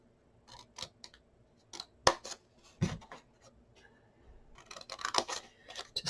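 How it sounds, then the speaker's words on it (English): Scissors snip squares off folded patterned paper for a Graphic 45 ABC Primer mini album, a series of crisp, close cuts in irregular bursts separated by short pauses, with no talking. "Just cutting those squares off at this time."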